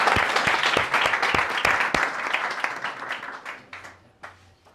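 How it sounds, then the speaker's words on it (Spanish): Audience applause greets a speaker introduced at a presentation on a new Andean park and biodiversity hotspot, dense clapping with sharp individual claps that gradually thins and fades toward the end. "espero que le brindemos un fuerte aplauso a Manuel"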